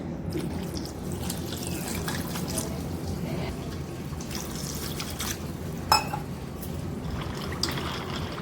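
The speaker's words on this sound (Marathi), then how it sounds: "तर एक ग्लास पाणी टाकते" A glass of water runs steadily into a pot of pasta, a continuous splashing pour with a brief clink partway through, close and moderately loud.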